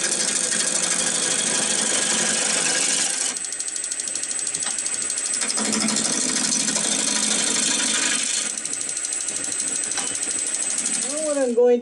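A bowl gouge cuts into spinning wood on a lathe during an eccentric bat turning, producing a loud, continuous scraping and whirring that shifts in tone as the cut changes, ending with a short squeal.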